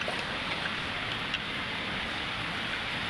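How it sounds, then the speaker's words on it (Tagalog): Continuous rushing floodwater from a typhoon roars down a mountain in a dense, steady wash, like a fast torrent, with no voices over it. "malakas pa rin talaga yung baha dito sa dito sa bundok"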